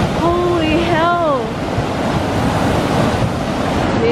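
A flash-flooding creek in the Pilbara roars with loud, continuous rushing water close by, and a voice is heard briefly at the start.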